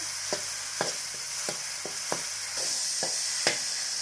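Shrimp and shrimp paste sizzle steadily in a hot pan while a spatula scrapes and clacks against it every half second or so, a busy stir-fry sound.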